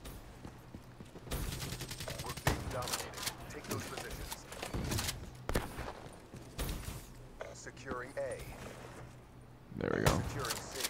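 Shotgun blasts and other gunfire in the video game Black Ops, sharp repeated shots in an uneven rhythm across a busy match, with people talking over the action.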